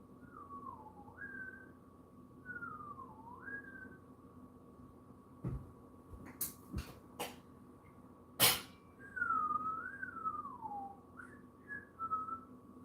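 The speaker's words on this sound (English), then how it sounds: "Birds probably think I'm like this human whistling at us" A person whistles short rising and falling tunes, interrupted by a few sharp knocks and clatters, then resumes whistling.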